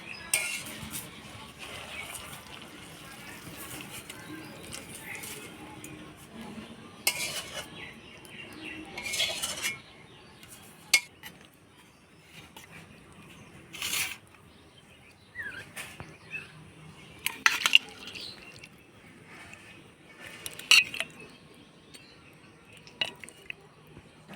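A spoon stirs a pot of pointed gourd (potol) curry with ghee and garam masala. Scattered scraping clinks of metal on metal sound over a soft cooking hiss, coming at irregular intervals through the stretch, and no one speaks.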